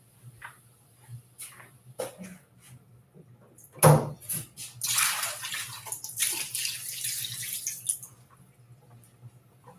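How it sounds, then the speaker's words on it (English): Water poured out of a film developing tank during black-and-white 35mm film processing: a sharp knock and clatter, then a loud rushing gush of water draining into a sink for several seconds before tapering off, with no talking. "Pour the water out, and then do the wetting agent."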